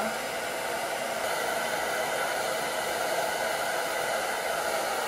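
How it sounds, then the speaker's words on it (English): A handheld blow dryer runs steadily while drying a woman's hair, giving a loud, even, continuous rushing whir with no talk over it. "You wanna hold the blow dryer though from up here."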